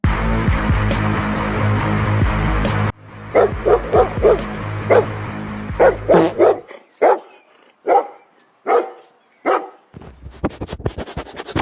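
A cartoon dog in an animation barks repeatedly, first over busy music, then alone in loud, sharp bursts that speed up into quick yips at the end.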